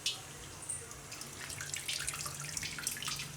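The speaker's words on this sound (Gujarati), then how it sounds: "હવે આપણે જે બટેટા રાખ્યા છે એને આપણે પાણી નિતારીને એમાં રાખી દઈશું" Water trickles and drips steadily as it drains off grated potatoes, close by and fairly quiet, with no one speaking.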